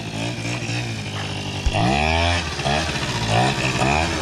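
A Kawasaki KFX 80cc quad engine drones close up while being ridden, its revs rising and falling in a steady, buzzy whine for the whole stretch.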